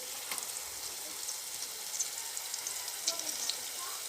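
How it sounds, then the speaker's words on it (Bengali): Onion, green chili, ginger-garlic and cumin pastes frying in a wok, a soft continuous sizzle with faint clinks and stirring noises, fairly quiet and close. "এখন কড়াইয়ে দিয়ে দিয়েছি পেঁয়াজ বাটা ও কাঁচামরিচ বাটা, আর দেব একটু আদা রসুন বাটা, জিরা বাটা একসাথে।"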